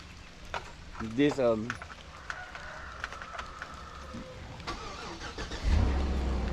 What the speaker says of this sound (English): let me get this truck started up